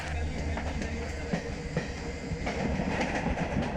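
Train rolling along rails on a long passenger journey to Kashmir, steady low rumble with faint rhythmic clicks of wheels over track joints, heard as if from inside the carriage.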